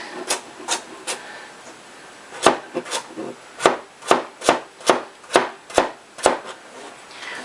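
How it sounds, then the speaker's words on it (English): A knife chops vegetable halves into quarters on a cutting board, about a dozen crisp, fairly loud thuds in an uneven rhythm that grows steadier toward the end, with no talk. "we're going to cut those halves in half and those halves in half"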